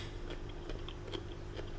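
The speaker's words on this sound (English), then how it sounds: "This is some papaya here. So this is a little bit crunchy." Someone bites and chews crunchy papaya close up, with a series of soft crunches and wet chewing clicks in an irregular rhythm over a low background hum, and no speech.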